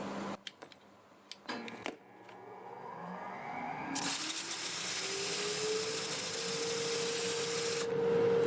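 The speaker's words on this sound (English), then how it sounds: "I'm going to start with 80 grit, and I'll sand it up to 400." Sandpaper rubs against a turned redbud wood piece spinning on a lathe, starting with a few short, scattered scrapes and then settling into a loud, steady abrasive rasp that swells as the lathe speed and hum climb.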